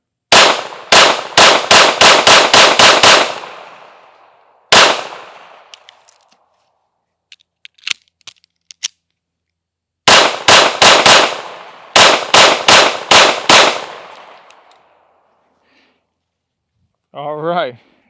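A Smith and Wesson Bodyguard 2.0 pistol fires in two rapid strings of sharp, loud shots, several in quick succession each time, with a single shot and small metallic clinks in the pause between.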